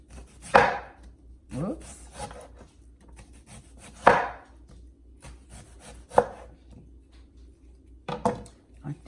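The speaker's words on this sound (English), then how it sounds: "Make little slivers of onion." A knife slices a sweet onion into thin slivers on a cutting board, making about five separate close, crisp cuts spaced a second or two apart, with a brief spoken word between them.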